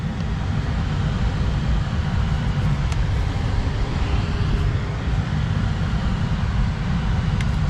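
A 2024 Tesla Model 3 Dual Motor on its first drive, heard from inside as a steady low road rumble and tire noise, a constant drone with a few faint clicks and no talking.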